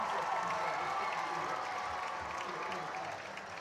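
A high school football stadium crowd on senior night applauds and cheers after a long run, a broad steady roar of clapping that eases slightly at the end, with a commentator talking over it.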